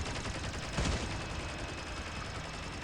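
Turret gunfire in a video game crackles as a dense, continuous burst of rapid shots, loud and close, with one heavier thump near the start and no talking.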